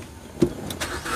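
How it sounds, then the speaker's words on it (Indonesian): A 2012 Suzuki Swift engine idles quietly and steadily, with a brief low thump and a faint mechanical whir partway through. "Ini saya sambil bunyikan mesin aja."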